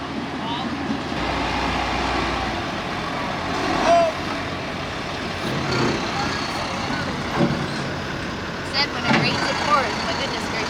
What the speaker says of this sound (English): That's pretty decent turnaround time for the dump trucks